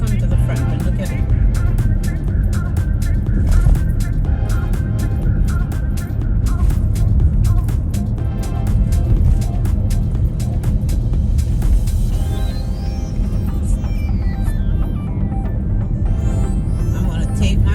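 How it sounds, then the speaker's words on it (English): Road traffic surrounds a car driving through Los Angeles, with a steady loud engine and tyre rumble running throughout, cars passing close by, and a voice talking over the noise. "I'm gonna take myself away out of this traffic."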